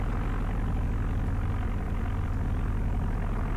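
Steady low drone of a Grumman Goose's piston engines and propellers in a flight simulator, rumbling evenly at moderate volume while one engine is throttled down.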